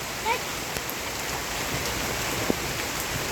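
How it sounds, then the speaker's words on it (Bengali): Steady rain falling on a rooftop garden, a continuous broad hiss with a few distinct drips and taps close by, holding an even level throughout without talk. "বৃষ্টি ভালোই হচ্ছে"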